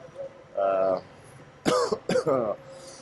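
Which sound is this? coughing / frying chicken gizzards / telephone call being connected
coughing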